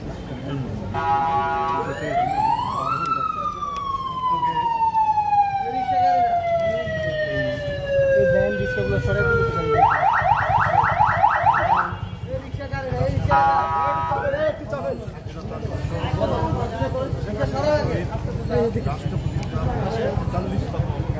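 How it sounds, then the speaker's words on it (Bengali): An ambulance siren wails and sweeps at an outdoor memorial prayer and food distribution gathering in Dhaka, loud and rising and falling repeatedly over continuous crowd chatter and talking. "আজ অ্যাম্বুলেন্সটা বাইর করে একটু পরে কথা বলবেন নাকি?"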